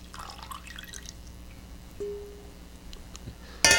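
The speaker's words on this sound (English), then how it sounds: "Now we're going to transfer the sauce to a large bowl." Mocha cream sauce for a frozen mocha cappuccino cake pours into a large bowl with faint, soft dripping and trickling, quiet throughout, ending in a brief louder clatter.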